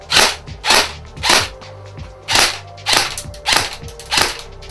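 Sharp airsoft rifle shots crack out in a rapid series, about eight evenly spaced bursts, loud and close with a mechanical clack.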